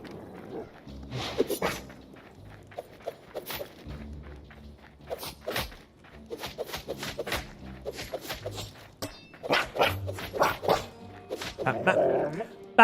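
A dog in the Hytale video game barks and whimpers in scattered bursts amid game effects and movement sounds, with a person talking at times.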